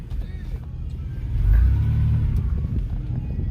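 Car rolling up close on grass, a low engine rumble that swells and grows louder midway as it nears, then holds steady.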